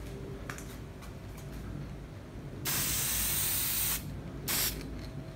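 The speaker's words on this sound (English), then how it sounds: "I sprayed in the garage because this stuff stinks, smells so bad." An aerosol can sprays onto the hair of a latex mask in a garage: one long hissing burst of about a second and a half, then two shorter spurts, loud and close over a quiet room.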